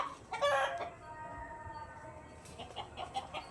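Chickens in a home garden cluck and squawk close by, one loud burst followed by softer scattered clucks over a faint outdoor background.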